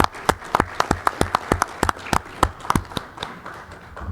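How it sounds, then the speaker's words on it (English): A small group at a meeting gives a brief round of applause, sharp individual claps in a loose rhythm, fairly close and sparse rather than a full crowd roar. "So I would actually just like to give a round of applause to them for the unsung work that they do every day."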